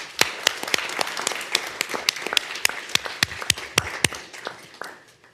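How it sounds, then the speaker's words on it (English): Sparse clapping from a small audience at a board meeting, individual claps distinct and uneven, moderately close, fading out after a few seconds with no talk over it. "Let's give them all a round of applause."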